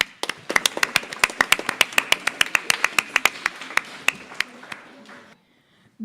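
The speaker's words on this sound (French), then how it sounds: "Est-ce que l'on peut les applaudir bien fort ?" Clapping in a school hall greets secondary students at an art exhibition opening, sharp distinct hand claps in a loose uneven rhythm from a small group, thinning out before stopping.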